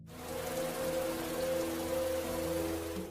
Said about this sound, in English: it rained heavily and flooded the cornfields of Chiwetel